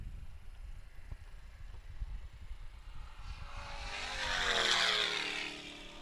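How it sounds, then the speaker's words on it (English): A gasoline-engined Tesla, race car 858, speeds past on an open-road Sandhills race course near 158 mph. It is faint at first, swells into a loud roaring pass, then fades away. "this right here is one of the loudest Teslas that you will ever see, because it's got a gasoline engine in it now."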